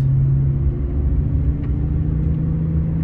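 A 2022 BMW G11 7 Series with a Thor exhaust idles after starting, giving a steady low rumbling hum with a faint whir, close and continuous, no talking.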